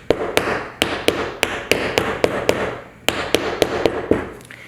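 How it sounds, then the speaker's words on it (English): Steady hammer taps on staples in a stool, about a dozen sharp strikes in an uneven rhythm, close and fairly loud, with no talking. "so I'm going to take a hammer and hammer it."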